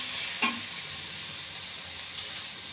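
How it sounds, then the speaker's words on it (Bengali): Turmeric and chili powder stir-fried in a pan for a Bengali-style egg curry, giving a steady close sizzle with one brief scrape of the spoon near the start. "মশলা ভালো করে কষে নিয়েছি"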